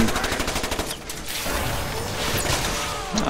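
Rapid automatic gunfire from the Resident Evil 6 video game, a loud, dense burst of repeated shots that gives way to continuous crackling, clattering combat noise.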